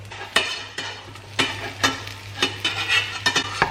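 A vegetable omelette with peppers and mushrooms fries in a pan, a steady close sizzle broken by repeated scraping and clinking of a utensil against the pan.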